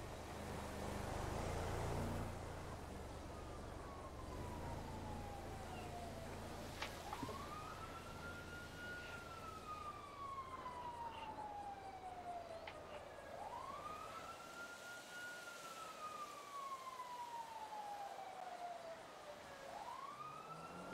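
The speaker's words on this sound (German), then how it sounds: "Ich höre auf jeden Fall Sirenen." Wailing sirens rise and fall in long sweeping cycles, moderately distant, over a low rumble of traffic throughout.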